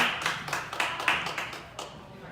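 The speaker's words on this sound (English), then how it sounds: "Let's give her a round of applause." A small audience at a personal branding talk claps for a volunteer, a sparse, uneven run of individual claps that fades after a couple of seconds.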